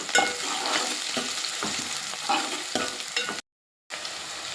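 Green chilies, curry leaves and onion fry in a pan for a village-style fish curry, giving a steady close sizzle broken by occasional stirring scrapes, with a brief cut to silence near the end.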